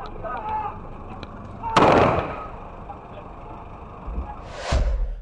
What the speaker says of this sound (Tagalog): umalingaw-ngaw na ang mga putok ng baril